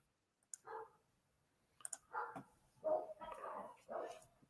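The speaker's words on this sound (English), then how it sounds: "Why is my neighbor's dog going nuts?" A neighbor's dog barks in short, rough bursts at a moderate distance, several irregular barks following a few sharp clicks, with no talking over them.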